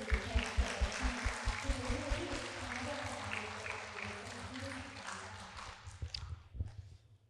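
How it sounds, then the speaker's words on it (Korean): A Korean church congregation gives a round of applause to God, a dense, sustained wash of clapping with low rhythmic thumps underneath that fades toward the end. "우리를 모이게 하신 하나님께 영광의 박수 드리겠습니다"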